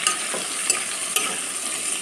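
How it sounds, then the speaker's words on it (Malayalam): Chopped onions sauté in a pan for a Kerala egg curry, giving a steady close sizzle with a few soft scrapes and stirs of a spatula, and no voices. "ഇനി ഇതിലേക്ക് അരിഞ്ഞ സവാള ചേർത്തിട്ടും ഇതുപോലെ തന്നെ ഒന്ന് ചെറുതായിട്ടൊന്ന് വഴറ്റിയെടുക്കാം"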